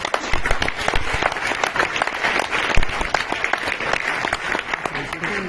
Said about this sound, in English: Please, a big applause.